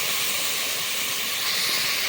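Head meat frying in a pan with onions while being stirred, heard as a loud, continuous sizzling hiss that stays even throughout, with no talking.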